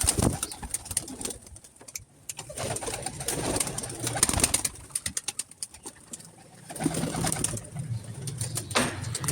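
Pigeons coo and murmur in bursts at close range, with scattered rustling and faint wing flutters between the calls.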